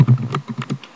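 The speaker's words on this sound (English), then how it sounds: "You start typing" Rapid clicking keystrokes on a computer keyboard, about half a dozen crisp taps in quick succession, close and clear with no voices.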